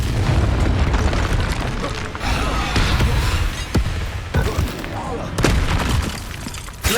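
A troll attacking in Hogwarts Legacy, with heavy booming thuds and crashes repeating through loud, dense combat noise.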